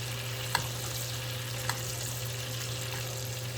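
Blackened fish sizzles steadily in a hot pan while being basted, a constant frying hiss with a couple of faint clicks from the spoon.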